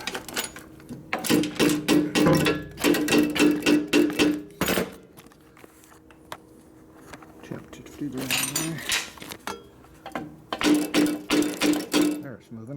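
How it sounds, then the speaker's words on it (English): Sharp metallic strikes ring out in quick bursts, a run of hammer blows flattening metal during a 1967 Harley-Davidson Shovelhead transmission rebuild, pausing, then resuming for another rapid series. "I can hit it with a hammer right there and flatten it a little bit"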